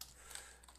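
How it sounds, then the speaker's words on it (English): A few quiet, quick keystrokes on a computer keyboard as HTML code is typed, brief and faint with no speech. "What you need to do is you need to type it in here."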